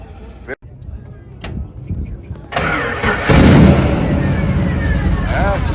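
A classic car's engine cranks and fires up at a rod run, catching with a sharp burst and settling into a loud, rough idle close by, with people talking over it.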